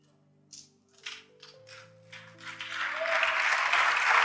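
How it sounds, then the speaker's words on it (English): Congregation clapping at a Phaneroo Sunday church service, starting with a few scattered claps over sustained organ-like tones and swelling into full, dense applause. "Yes, you don't need to clap"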